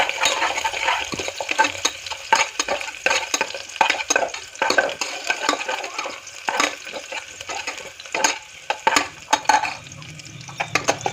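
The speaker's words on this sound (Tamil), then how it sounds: "வெங்காயம் மிளகாய் கருவேப்பிலை வச்சுக்கலாம். அது நல்லா வணக்கிடுங்க" Mustard seeds, onion, green chili and curry leaves sautéing in a pan for tomato rice, with sizzling under repeated scrapes and clinks of a spoon stirring against the pan in uneven bursts.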